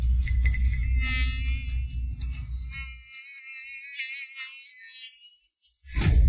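A mosquito in a Korean drama scene whines in a thin, wavering buzz close up, first over a low rumble, then nearly alone before a sharp loud hit.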